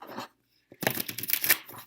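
Tarot cards being shuffled by hand give a short papery riffle, then after a pause a longer, louder burst of rapid flicking and sliding, close up.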